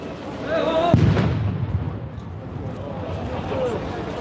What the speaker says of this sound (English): That's a major explosion.